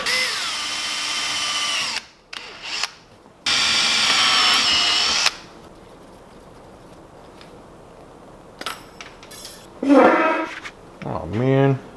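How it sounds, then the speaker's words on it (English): A power drill bores a hole in a workshop, whining in two loud bursts with a short pause between, followed by quieter shop noises and brief speech near the end. "drill a hole inside of there, put a coping saw blade in, and cut that out"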